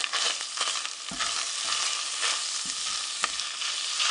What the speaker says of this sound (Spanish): Ahora vamos a incorporar la cebolla, el ajo, el chile picadito. Vamos a empezar a dorarlo.